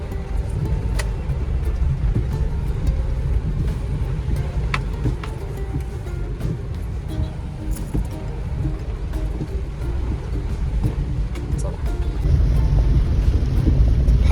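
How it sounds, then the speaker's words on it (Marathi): Heavy rain drums steadily on a roof near a car wash, a dense, continuous roar with scattered sharp taps, swelling louder near the end, with no voices. "बघू शकता की पाऊस किती पडतोय"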